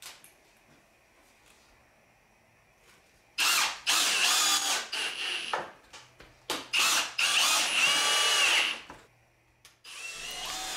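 Power drill driving screws into the wood of a curved outdoor garden bench: several loud bursts of whirring, each a second or so long, with short pauses between them and a quiet, still room before the first burst.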